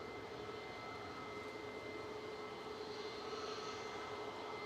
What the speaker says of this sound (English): 777-300ER departing back to Doha for Qatar Airways Flight 28.